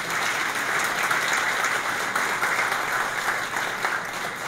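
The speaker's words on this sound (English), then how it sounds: "Please join me in a round of applause for all of them coming here today" Audience at a town luncheon event in Bridgewater giving a round of applause, an even, sustained wash of many hands clapping, moderately loud and steady without talk over it.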